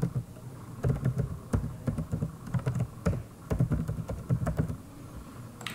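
Rapid, uneven keystrokes on a computer keyboard as names are entered into an online account sign-up form, close and clear with no voices, bursts of clicking separated by short pauses.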